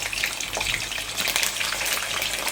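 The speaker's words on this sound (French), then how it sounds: "L'huile a déjà chauffé, on va passer à la cuisson de notre poisson." Horse mackerel fries in hot oil, giving a steady, dense crackling sizzle that stays close and fairly loud for the whole stretch, with no voices over it.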